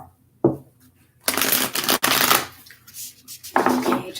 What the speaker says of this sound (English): Okay, just a few more shuffles here.